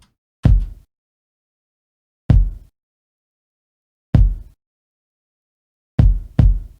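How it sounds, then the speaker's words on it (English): A compressed kick drum hitting alone: five punchy, full-bodied thumps, three evenly spaced about two seconds apart, then a quick double hit at the end, with silence between them. "here is the kick compressed."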